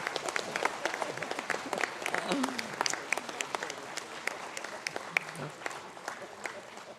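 Graduates at a university conferring ceremony clap for their families and supporters, a moderate, fairly distant round of applause with scattered sharper claps standing out, a brief voice passing beneath it.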